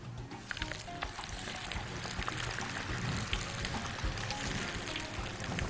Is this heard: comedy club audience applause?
no